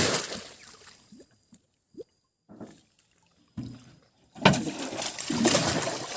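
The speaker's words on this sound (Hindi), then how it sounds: "अभी ये जाल मछली को ब्लॉक करेगा, उसके बाद पानी फेंकेगा यहाँ से।" Water is thrown by hand out of a fish pond, scattered splashes and trickles, then a louder sustained rush of sloshing water near the end.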